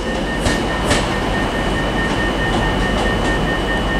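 A Virgin Class 390 Pendolino electric train at Manchester Piccadilly on the West Coast Main Line. It gives a steady, moderately loud rumble and hum with a few faint wheel clicks, and nobody speaks.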